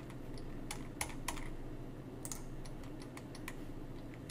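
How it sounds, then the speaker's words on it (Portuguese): Mouse clicks while selecting edges one by one in CAD software for an Arduino MEGA case, heard as a series of sharp, close clicks, some isolated and some in quick clusters, over a steady low background hum. "Todas as bordinhas que eu quero adicionar, tá? Uma por uma, só ir clicando."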